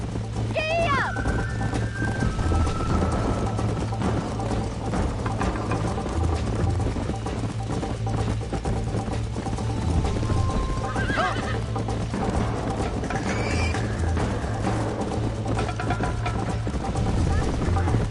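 In the Red Dead Redemption video game, a horse gallops with rapid, continuous clip-clop hoofbeats, a neigh or whinny rising through it, while someone speaks over the running horse.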